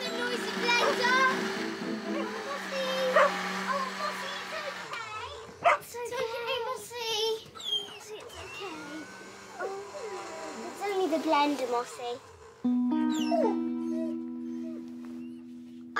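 A dog yips and whimpers in bursts over a whirring blender that starts and stops, while a voice calls out in between.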